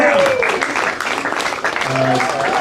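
Applause from an open-mic audience for a comedian at the end of his set, a dense patter of clapping that fills the room steadily, with a voice or two rising over it.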